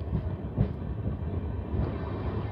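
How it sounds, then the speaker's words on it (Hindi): A passenger train from Lalkuan toward Puranpur rolls slowly at about 20 km/h through forest, giving a continuous low rumble with faint rail clatter, steady and close, with no voices. "पूरे ही जंगल में ट्रेन जो है वो 20 किलोमीटर प्रति घंटा की स्पीड में चलेगी"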